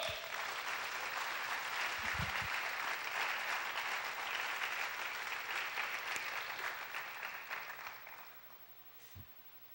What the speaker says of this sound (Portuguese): Vocês aplaudam o Senhor